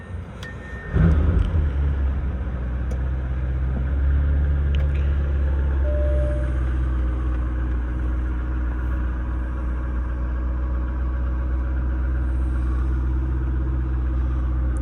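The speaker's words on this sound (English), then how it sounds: "Start up the engine." A 2026 Lamborghini Temerario hybrid sports car engine turns over with a sharp burst, then settles into a steady, deep idle rumble that holds close and loud throughout.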